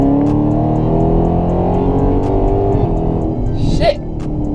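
Dodge Charger SRT Hellcat's supercharged engine pulling hard from highway speed inside the car, a loud steady roar with supercharger whine and a gear-change dip near the end.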